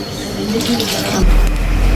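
Nine tumblers of water run steadily from a tap into a cooking pot for kichdi, a continuous close splashing pour over low background noise.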